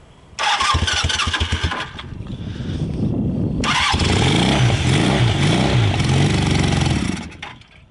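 A 1981 Honda CM400 motorcycle, damaged by raccoons, cranks on a jump pack and catches, its engine starting with a loud burst and then running unevenly nearby, with the revs rising and falling for several seconds before it cuts out.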